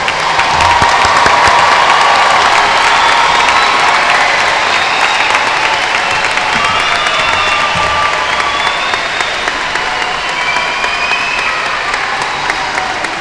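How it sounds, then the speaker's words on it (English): A large commencement audience at Indiana University of Pennsylvania's spring ceremony gives sustained applause for new degree recipients, thick steady clapping with a few cheers and whistles, loud throughout and slowly tapering over thirteen seconds. "One final applause for all the new associate and bachelor's degree recipients."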